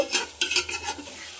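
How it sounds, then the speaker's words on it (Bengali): Desi chicken being sautéed and stirred in a pan for a Bengali chicken kosha, with a few close scraping stirs over a low, steady sizzle. "দেখতে থাকুন মাংস কষানো হচ্ছে"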